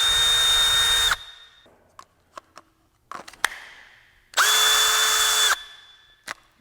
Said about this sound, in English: there's definitely more power going through the drill